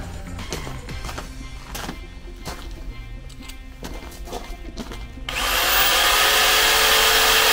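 A power drill whirs up loudly after a few seconds of scattered knocks and handling clatter, then runs steadily at high speed boring a hole in a wooden bread board until the end.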